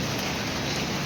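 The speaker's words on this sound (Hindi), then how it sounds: "बारिश पड़ने लगी हल्की हल्की" Light rain falls outside a shop, a steady, dense hiss of drops spread evenly across the whole moment with no voices.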